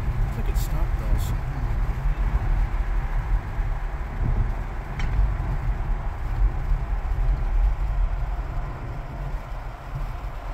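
A steady low rumble of a Union Pacific local freight train in City of Industry fills the clip, with faint clanks and squeals on top and no clear voices.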